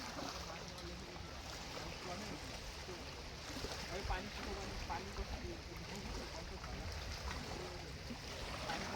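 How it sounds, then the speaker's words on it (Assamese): A river flows beside Rudrapad Mandir in Tezpur, Assam, giving a soft, continuous rushing wash of water that sounds faint and distant and stays even throughout, with a voice in the background. "চাউণ্ড এটা শুনক, নদীৰ চাউণ্ড এটা শুনক।"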